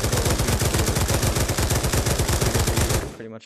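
Light machine gun in Pavlov Shack fires one loud, sustained automatic burst of rapid, evenly spaced shots for about three seconds, then stops abruptly and a faint mechanical clatter follows.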